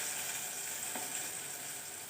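Masala paste hits hot tempering oil for chicken sukka in a home kitchen, giving a steady, continuous hissing sizzle, faint and even throughout with no speech.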